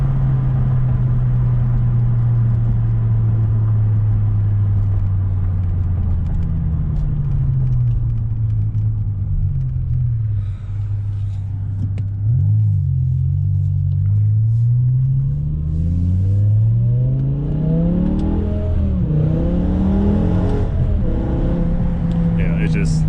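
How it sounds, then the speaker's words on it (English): A BMW E60 M5 revs hard on traction control while its tires spin and burn, the engine drone rising and falling loudly and close, with people talking over it throughout. "Yeah, it's just running traction control and spinning. Don't even get quarter throttle and it's burning them."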